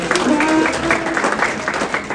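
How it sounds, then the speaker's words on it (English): A crowd claps and cheers in a steady burst, with a few voices rising above the noisy applause. "give yourself an applause"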